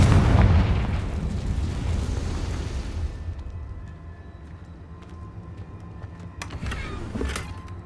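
A Confringo blasting curse explodes in the Hogwarts Legacy video game: a loud, close, deep boom that rumbles and fades over about three seconds, followed by sparse sharp cracks and debris-like pops.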